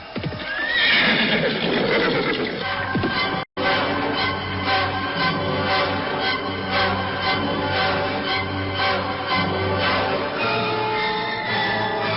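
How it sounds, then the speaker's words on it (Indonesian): Horse hoofbeats staged as a radio drama sound effect: steady clip-clop rhythm with a loud neigh near the start, the hooves continuing in an even, close, repeating pattern after a brief cut, with no voices. "mendadak mereka mengurungkan niatnya karena mendengar derap kaki kuda mendekat"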